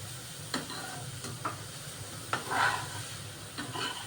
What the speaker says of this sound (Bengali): পাঁচফোড়ন আর কালো জিরে দিয়ে গুঁড়ো লঙ্কা কাঁচা লঙ্কা দিয়ে এটা ভাজা ভাজা হবে